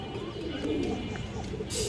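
Pigeons coo in a low, steady murmur, including a red giachuli female pigeon of flying and pairing lines, continuous and fairly close with faint rustling.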